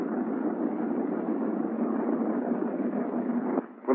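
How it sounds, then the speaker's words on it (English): A C-47 transport's left piston engine starting up, a steady broad roar that holds at a constant level before dipping and surging again near the end, with no voices. "I'm going to start the left engine."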